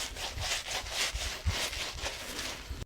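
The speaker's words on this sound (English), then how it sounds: "For the closest shave, shave with, across, and against that stubble growth." Razor scraping across second-day facial stubble in quick, steady, repeated strokes, close and rasping, with no talk.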